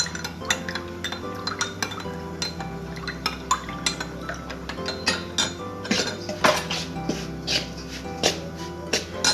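Ingredients for coconut buns are mixed in a bowl, with irregular clinks and scrapes of a utensil against the bowl sounding close by in uneven bursts.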